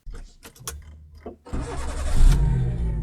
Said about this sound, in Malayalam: അപ്പോൾ ഓക്കെ, വണ്ടി സ്റ്റാർട്ട് ചെയ്ത് നോക്കാം